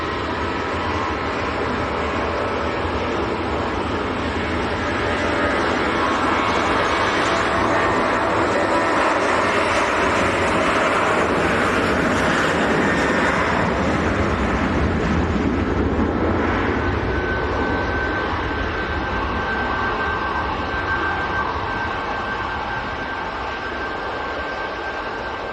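Airbus A350-1000 jet at Manchester Airport, a loud, sustained engine roar with a broad rushing hiss that swells and holds for the whole stretch, with a faint steady whine rising near the end.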